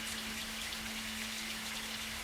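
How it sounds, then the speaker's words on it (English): Steady, dense rain hiss from a night storm fills the clip without a break, with a constant low hum underneath; no voices. "rain pouring like a waterfall"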